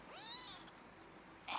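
A baby kitten gives one clear, drawn-out rising and falling meow close by, faint and alone, followed by a brief rustle at the end.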